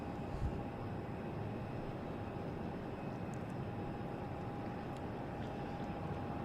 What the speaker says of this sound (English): So now we have JetBlue coming in.